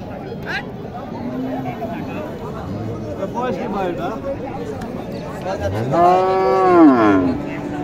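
A cow moos loudly and nearby at a crowded cattle market in Naogaon, a long rising and falling low call near the end, with people chattering all around.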